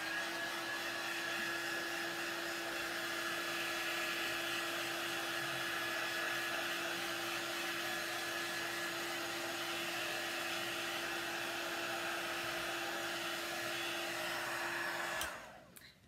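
A hair dryer blows steadily on a freshly made decorative gift box craft, a loud continuous whir with a fixed high whine that runs for about fifteen seconds before cutting off abruptly.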